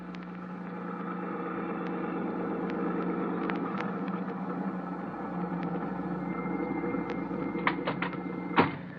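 A car engine hums and rumbles steadily as the vehicle drives, an old radio drama sound effect with faint ticks and a sharp clunk near the end.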